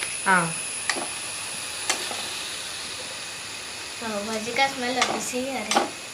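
Butter sizzles with tomatoes in a pan for pav bhaji, giving a soft, steady hiss with occasional light ticks. Voices speak briefly over the sizzle near the start and again toward the end.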